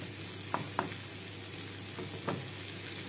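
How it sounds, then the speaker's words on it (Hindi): Green peas frying in a pan while being stirred, a steady close sizzle with a few sharp spatula scrapes and taps cutting through at intervals. "इसमें हमने मटर ऐड करनी है। अब इसको भूनना है हमने।"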